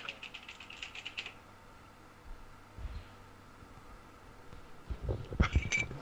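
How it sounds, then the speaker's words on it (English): Close computer keyboard typing rattles in a fast run of clicks for about a second, falls to a quiet hum with a faint tap, then returns as a louder, denser flurry of keystrokes near the end. "You want to hear my keyboard?"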